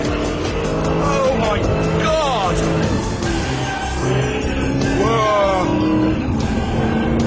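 Tires squeal as a supercharged LS2 Vauxhall Monaro VXR 500 slides sideways with traction control on, under a loud, steady engine roar, with an excited voice shouting over it.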